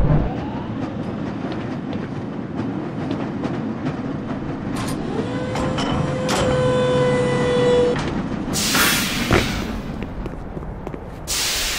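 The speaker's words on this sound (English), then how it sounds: "This lever-controlled train will transport you to a location where your training associates are waiting for you." A lever-controlled tram in the game Black Mesa rolls along its track with a steady rumble and clacking, a rising whine, and a harsh metallic screech near the end.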